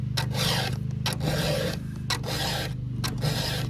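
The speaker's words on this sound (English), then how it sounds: "we're round filing, so it takes a couple swipes to kind of open up that gusset" A round file sharpens a chainsaw chain before timber cutting, with loud, close rasping swipes in short bursts separated by brief pauses over a low steady hum.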